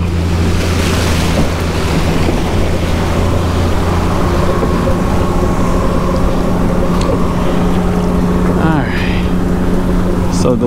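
A shallow-water boat's motor runs in a steady, loud drone on open water, mixed with rushing water and wind buffeting the microphone, and a voice speaks briefly over the noise.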